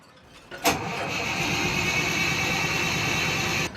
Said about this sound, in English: they're ready to start the engines